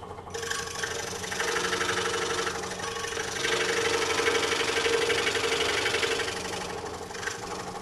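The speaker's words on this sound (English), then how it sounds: "I'm going to do my clamp routine again." A woodworking clamp is cranked tight on a scroll-saw craft project, producing a continuous close mechanical ratcheting and grinding whir that swells and eases over several seconds, with no talking.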